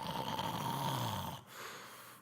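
A man imitates a loud snore, one long rough rasping drone that fades at the end before a quieter breath.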